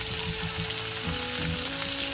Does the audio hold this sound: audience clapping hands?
no